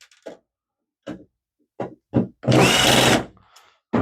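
A power driver backing screws out of the power supply of a Dell Precision T1700 workstation: several short buzzing bursts, then one longer whir, loud and close with silent gaps between.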